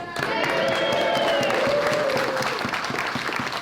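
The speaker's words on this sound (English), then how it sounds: "Make some noise if you're going to support the RMT and every other rail worker" A rally crowd of rail workers and trade unionists cheering and applauding, loud dense clapping with whoops throughout, close and sustained.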